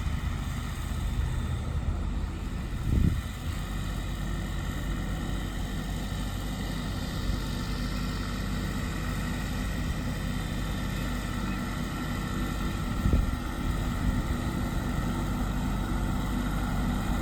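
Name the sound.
tractor engine running while being driven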